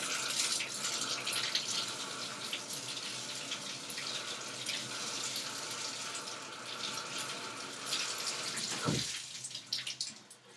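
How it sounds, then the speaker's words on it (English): A facial cleansing brush rinsed under running water indoors, a steady hissing stream of tap water lasting several seconds, with a brief louder splash near the end as the flow is disturbed. "Let's rinse this brush one more time."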